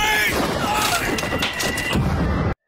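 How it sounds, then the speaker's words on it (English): Gunfire in a World War I battlefield scene from the film 12 Monkeys, a dense, continuous barrage of shots and booms with a tonal score running underneath, cutting off abruptly. "he gets shot in the leg"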